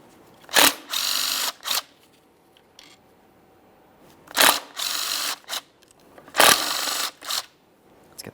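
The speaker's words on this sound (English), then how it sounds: "I'm going to start removing each of the 4 bolts that are holding the throttle body to that intake." A power tool with an 8mm socket removes the bolts holding the throttle body to the intake on a 2013-2020 Ford Fusion 2.0L I4, sounding as three separate loud whirring bursts, each followed by a shorter one, with quiet gaps between.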